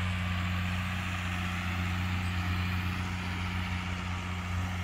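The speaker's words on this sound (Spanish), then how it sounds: "allá anda el tractor" A tractor harrowing a field runs as a steady, continuous engine drone with a low hum, fairly even in loudness throughout and with no talk.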